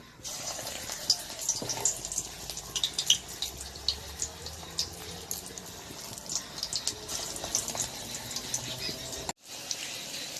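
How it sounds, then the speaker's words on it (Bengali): Drumstick flower fritters fry in plenty of hot oil, giving a continuous hissing sizzle scattered with small crackles and pops, broken by a brief cut near the end. "এই দেখো বড়াটা ভালো করে ভেজে নিই"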